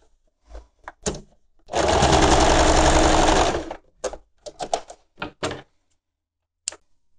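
A sewing machine stitching a denim apron made from jeans, one loud continuous burst of rapid mechanical stitching lasting about two seconds, surrounded by short clicks and handling knocks.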